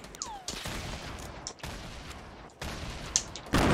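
Grenade launcher shots and grenade blasts in Fortnite Battle Royale, several sharp bursts separated by short gaps, with a heavier explosion at the end, loud and close.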